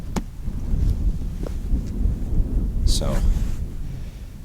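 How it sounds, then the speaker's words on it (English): Wind gusting across rocky high-desert terrain in the New Mexico mountains on a cold 20-degree day, a steady low rumble of buffeting against the microphone with brief speech over it. "it's pretty windy out."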